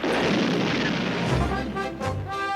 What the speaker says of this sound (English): He used stun grenades!